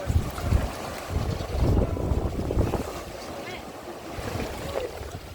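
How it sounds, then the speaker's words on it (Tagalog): Strong sea waves at a beach in Mindoro, a continuous rough wash of surf and wind noise with surging swells, heard up close with voices talking over it. "Grabe guys. Lakas ang alon."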